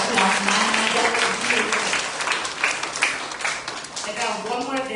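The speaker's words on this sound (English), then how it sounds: "let's give her a big round of applause, Manya" Audience applause for a student dancer at a Diwali gathering in Katy, Texas: steady, fairly loud clapping that tapers slightly toward the end, with voices faintly present beneath it.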